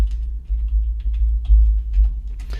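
Quick keystrokes on a computer keyboard click in short irregular bursts over a steady low hum, with no talking.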